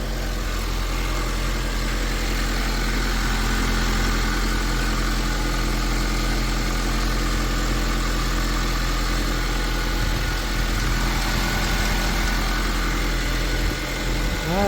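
Honda Civic 1.8 engine idling just after starting following a valve cover gasket replacement, a loud, steady low hum and rumble close by, continuous and unchanging, with no talk.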